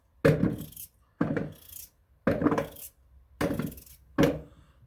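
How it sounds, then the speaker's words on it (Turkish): Five evenly spaced knife chops through potatoes strike a cutting board, each a sharp thud with brief pauses between. "patatesimizi doğruyoruz."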